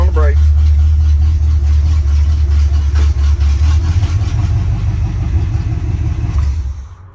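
Truck engine fitted with old Hedman headers idling steadily with a deep low rumble, foot off the gas and brake applied, loud and close throughout before cutting off near the end, with someone talking over it.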